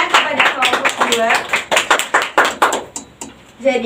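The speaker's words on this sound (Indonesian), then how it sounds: "Beri tepuk tangan kepada kelompok 2." Classroom students clap for a group that just presented in a micro-teaching lesson, a quick run of sharp, close hand claps in uneven rhythm that thins out and stops.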